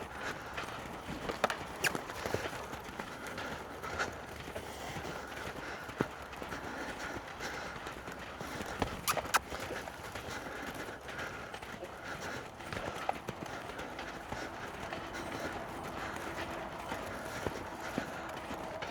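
A horse stepped up into a lope during a training session, its hoofbeats a steady rhythmic clip-clop under a trainer's ongoing spoken instructions, moderately near throughout.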